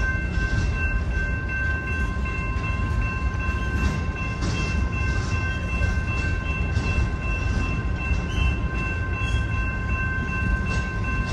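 A BNSF manifest freight train rolls steadily past the Calwa diamond crossing in Fresno, California, a loud continuous rumble of wheels and cars with a constant tonal hum, close by and unbroken throughout.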